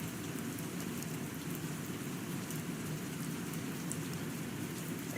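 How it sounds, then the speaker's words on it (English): Rain falls steadily outside in a continuous broadband hiss with a low rumble, soft and even throughout, with no voices. "I don't know if the rain will appear in the background of this recording"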